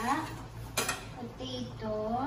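Potatoes go into a pot of boiling chicken caldereta with a couple of clattering metal-on-pot knocks and a brief splash. The bubbling simmer stays faint and close underneath.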